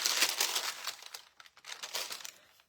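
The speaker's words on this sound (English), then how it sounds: "The only thing I forgot to take out is my parchment paper." Parchment paper being pulled out and handled while decorating Christmas stars, close, soft crinkling and crackling in several short bursts that quieten and return.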